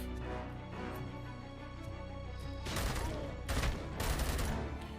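A G36-style rifle in the Robocop video game fires in rapid bursts, loud crackling volleys over a steady game background hum, with a few separate bursts in the second half.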